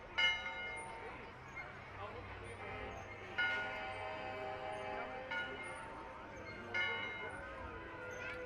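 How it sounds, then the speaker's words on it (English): A bell mounted on the back of a truck in a small-town Independence Day parade rings out in repeated clangs every few seconds, each strike ringing on over crowd murmur and a low engine. "they are letting freedom ring with their independence, with their bell on the back of their truck there"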